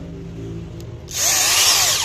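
Quiet background hum, then an electric drill suddenly whirs up loudly, its pitch shifting as the bit bites into wood.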